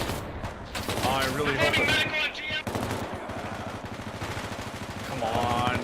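Bursts of automatic machine gun fire in a combat scene, loud and rapid, several strings of shots with short gaps while a voice talks between and over them.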